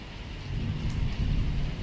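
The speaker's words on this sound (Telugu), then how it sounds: "ఈరోజు మార్నింగ్ నుంచి నైట్ నుంచి వర్షం పడుతూనే ఉంది కంటిన్యూగా." Continuous rain at night, a steady dense patter and rush with a low rumble underneath, held at an even level throughout.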